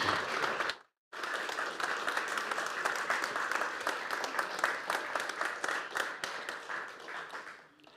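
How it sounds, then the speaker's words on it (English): An audience at a book launch applauds in a sustained burst of many hands clapping, loud and dense, breaking briefly near the start and then fading out toward the end. "Please give a round of applause."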